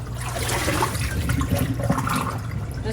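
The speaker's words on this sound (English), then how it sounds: "And dump out this old water." Old water being poured out of a bamboo plant's vase, a steady gush of liquid that splashes and runs continuously for a few seconds, close and fairly loud, with no voices.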